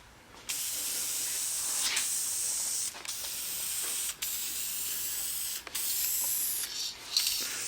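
Spray gun painting parts for a 1946 Ford hisses in several long bursts separated by brief pauses, steady and fairly close, with no voices.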